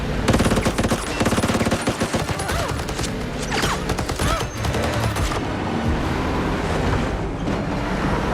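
Shotgun gunfire in an action film car chase comes as loud rapid blasts over a continuous roar of engine and road noise, the rhythmic bursts fading after a few seconds into the rumbling chase.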